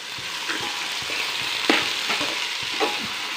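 Capsicum, cauliflower, beans and potato with tomato sautéing in a pan for veg biryani, a soft steady sizzle with occasional scraping stirs, close and moderately quiet.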